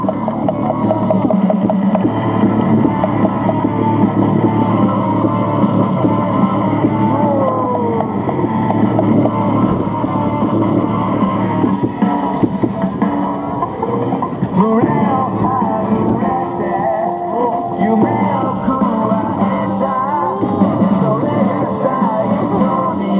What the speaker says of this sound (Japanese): 忍者走りと非常に高い連動を必要とするウィリー走行をご覧ください。